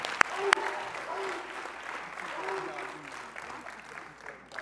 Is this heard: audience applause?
yes